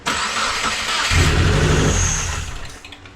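A 2016 Subaru WRX engine cranks briefly, catches and fires up, then settles into a loud, close, rumbling idle within about three seconds.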